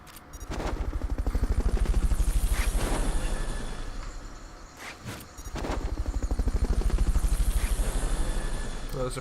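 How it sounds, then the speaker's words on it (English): A Fulton recovery helicopter in Metal Gear Solid: Peace Walker thumps with fast rhythmic rotor chopping, loud and close, running in two long stretches separated by a brief lull. "Fulton recovery helicopter"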